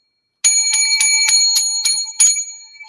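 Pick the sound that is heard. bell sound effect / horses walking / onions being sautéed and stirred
bell sound effect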